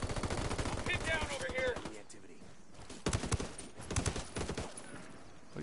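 Rapid bursts of automatic gunfire in the shooter game Ghost Recon, loud and rattling in two clusters separated by a quieter gap, with voices talking over the shots.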